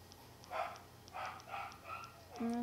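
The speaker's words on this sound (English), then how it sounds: "there are dogs barking." Several dogs bark in quick, irregular bursts, fairly distant and moderately faint, with a brief whine at the end.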